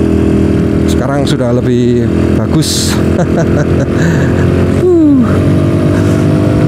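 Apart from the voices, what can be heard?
self-built motorcycle engine running while riding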